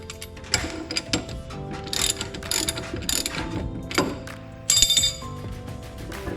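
A ratchet wrench loosens a brake caliper bolt on a Dodge Charger during a four-piston brake install. It gives repeated close, metallic clicking bursts with pauses between strokes.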